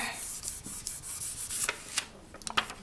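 Black polymer clay, freshly rolled through a pasta machine at its thickest setting, is rubbed flat by hand in a burnishing pass, giving soft, close scraping and rubbing strokes with a few brief sharper touches, without talk.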